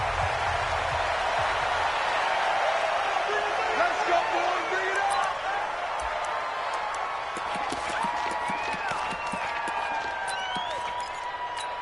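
A stadium crowd roars steadily before a Minnesota Vikings versus Dallas Cowboys NFL game, a dense wash of cheering and clapping that fills the whole stretch while an announcer's voice talks over it.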